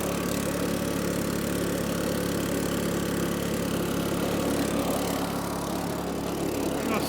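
A small gasoline motor powers a dry washer out in the Arizona desert, droning steadily and close by for the whole stretch with an even, unbroken idle-like hum and no talking.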